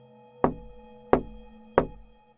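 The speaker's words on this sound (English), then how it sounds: "we both were awoken by a knock at the door." Three firm knocks on a door, evenly spaced about two-thirds of a second apart, loud and close with short resonant decay, no voices.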